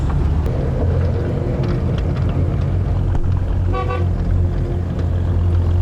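A car engine rumbles steadily and close as it arrives at Bukit Kingkong near Mount Bromo, with wind buffeting and one short horn toot partway through.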